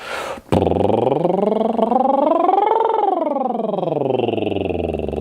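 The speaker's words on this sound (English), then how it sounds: "we're going to siren, some people call it. It just means go from a low pitch all the way up to a high pitch and then back down" A single sustained human voice performs a siren warm-up, gliding smoothly from a low pitch up to a high peak and sliding back down in one continuous breath, close and unaccompanied after a brief intake.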